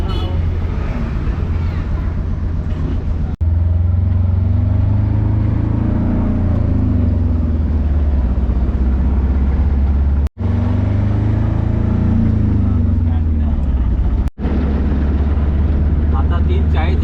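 Vehicle engines rumble at the busy Kankavli bus station, a loud droning idle with rising and falling revs, cut by a few brief breaks, and voices mixed under the noise.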